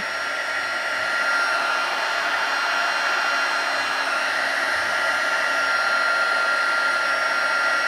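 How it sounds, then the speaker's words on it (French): A heat gun blows continuously with a loud, steady airy roar and electric whine, unchanging throughout. "Que j'ai branché le pistolet chauffant. Donc ça va faire du bruit."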